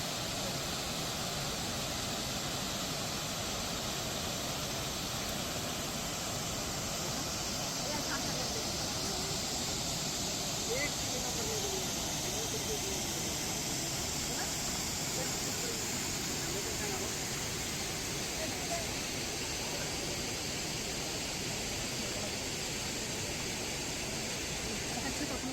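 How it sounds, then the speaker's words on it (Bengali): Sita Falls near Ranchi in the monsoon pours in a constant, full rushing wash of water, fairly distant and unbroken for the whole stretch, with no talking over it. "চোখ বন্ধ করে তোমরা অনুভব করো এই ঝর্ণার শব্দ।"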